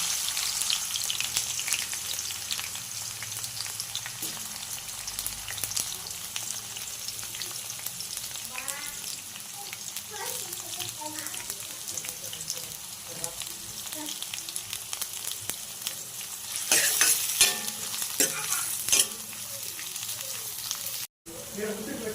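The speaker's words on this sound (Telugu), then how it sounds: "ఆనియన్స్ గోల్డ్ కలర్లోకి వచ్చాక" Onions sizzling in oil in a pan for chicken curry: a continuous close crackling fry with occasional stirring scrapes, brief bursts of louder spitting near the end, and someone talking intermittently over it.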